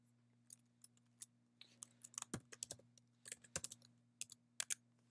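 Computer keyboard typing in a Linux terminal during a Burp Suite install: scattered close key taps quicken into a burst of clicks and then a few sharper strokes, over a faint steady hum, with no speech.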